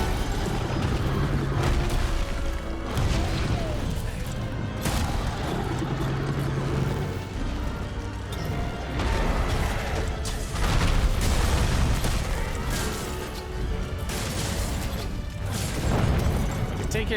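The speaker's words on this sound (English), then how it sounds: "Too many explosions." Repeated booms and bursting explosions from a monster hunt in Monster Hunter World, dense and continuous over game music and effects, with heavy low-end thumps recurring throughout.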